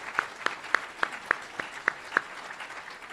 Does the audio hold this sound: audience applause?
yes